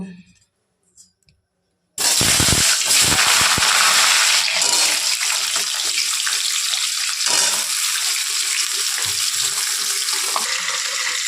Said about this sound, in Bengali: বন্ধুরা তেলটা খুব ভালোভাবে গরম হয়ে গেছে, এবার আমি আলুর পিসগুলো দিয়ে দেব।